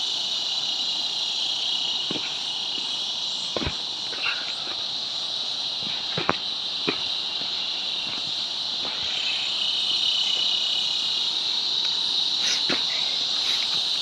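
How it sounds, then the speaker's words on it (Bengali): Crickets chirp steadily on all sides along an Annapurna Base Camp trek in Nepal: a dense, continuous high trill with a few faint knocks and footstep-like taps underneath. "চারদিকে ঝিঝি পোকার ডাক।"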